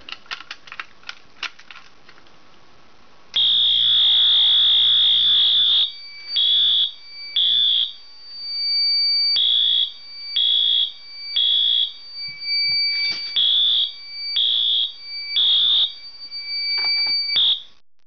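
A fire alarm appliance set to code 3 sounds from the panel in a loud, piercing electronic tone, pulsing in repeated groups of three bursts with short gaps, preceded by faint clicking.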